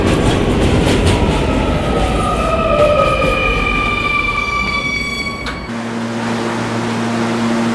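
R220 subway car on the 11 local line riding along, a loud rumbling roar with wheel squeals and rising tonal motor whine, then the pitch settles into a steady hum as the train slows.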